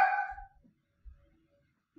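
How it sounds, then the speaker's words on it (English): A single sharp dog bark sounds close by indoors at the start, then fades into quiet with faint low thuds and rustling afterward. "I'm so sorry about dogs barking"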